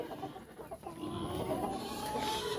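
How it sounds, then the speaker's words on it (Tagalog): Rhode Island Red chickens in a breeding pen on a free-range farm give soft, moderately close clucks and murmurs against a steady background hum. "Dito po yung isang breeding pen ng ating Rhode Island Red."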